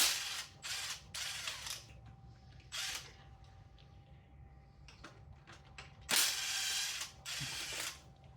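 A ratchet with a 12mm socket works nuts loose on a Toyota 7M-GTE engine during teardown, giving several bursts of rapid close clicking separated by pauses, the last burst longest and loudest.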